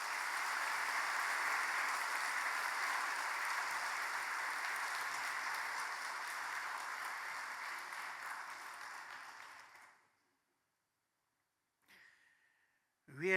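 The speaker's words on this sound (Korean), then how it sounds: "우리 큰 박수로 한번 맞이하겠습니다" A church congregation at a Sunday service applauds to welcome a missionary, a steady, even round of clapping lasting about ten seconds before stopping abruptly into silence, followed by a brief breath-like sound.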